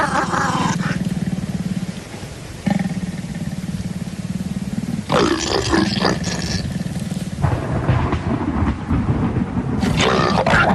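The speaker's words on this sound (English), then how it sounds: "The roars of lions disrupt the intimacy of the pair. The roars come from Tamu and her male." Lions, a female and her male, roar in the wild at evening, with deep, loud bursts repeating in waves over a rumbling, breathy background, the calls overlapping and swelling near the end.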